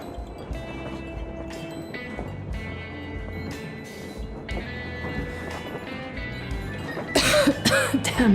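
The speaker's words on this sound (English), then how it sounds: "Damn coughing." Character coughing in the Metro Exodus video game, a few rough coughs over steady train rumble and ambient game sounds, with a harsher burst near the end.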